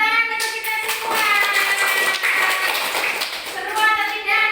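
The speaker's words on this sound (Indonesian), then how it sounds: "Satu tepuk tangan untuk kita semua." Children clap their hands together during a classroom lesson, giving a few brief claps and taps mixed in with the voices of children and a teacher.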